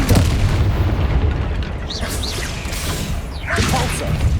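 Confringo blasting spell from Hogwarts Legacy going off as a dense, booming explosive roar that stays loud and broad throughout, with brief whooshing streaks layered over the rumble and no one talking.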